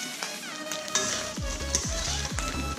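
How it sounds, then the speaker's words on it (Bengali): Rice coated in turmeric and ghee fries in hot oil for pulao with a bright, close sizzle, and gentle stirring adds rhythmic scraping strokes over it. "এই চালগুলো একটু এখন হালকা হাতে আস্তে আস্তে ভেজে নিতে হবে।"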